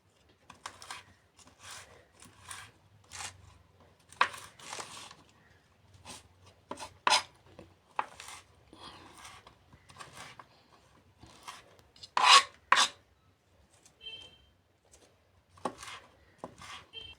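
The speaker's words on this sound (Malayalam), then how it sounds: "കുറച്ച് വേപ്പിൻ്റെ ഇല ചെറുതാക്കി അരിയുക." A knife repeatedly chops neem leaves on a board, giving irregular sharp, close taps in short bursts with quiet gaps, heard alone.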